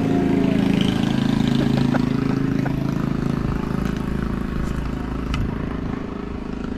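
A small motorbike engine hums steadily at close range as it passes on a street, droning with a low idle-like rumble throughout, with faint street noise around it.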